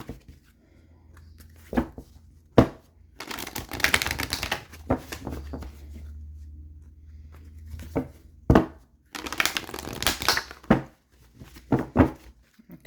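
Tarot cards being shuffled and pulled from the deck, heard as bursts of crisp riffling and card snaps separated by sharp taps and quieter pauses, close and fairly loud with no talking.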